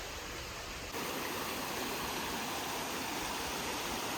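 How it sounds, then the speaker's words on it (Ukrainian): Zhenetskyi Huk waterfall in a Carpathian forest near Vorokhta pours in a steady, close, full-bodied roar of falling water that fills the whole clip with no voices. "Гарнісінький такий водоспад собі."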